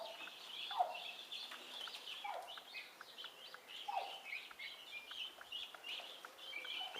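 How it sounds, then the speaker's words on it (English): Guinea fowl keets chirping near a nesting hen, a busy scatter of soft high chirps and calls, fairly faint and continuous, with no talk. "When you hear her babies up there, wickering away like yours. Those guinea fowl certainly are extremely noisy things."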